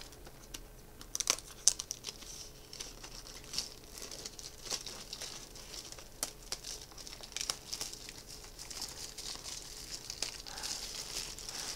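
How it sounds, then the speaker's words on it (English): A cardboard box is cut open, with quiet, close crinkling, tearing and scraping scattered across the whole stretch in uneven bursts and no talking. "let's cut this box open."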